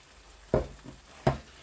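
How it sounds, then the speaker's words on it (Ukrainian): A spoon or spatula stirs fried cabbage in a frying pan, giving two distinct scraping clunks about three-quarters of a second apart, with a faint knock between them over a low background hiss. "І гарненько змішуємо."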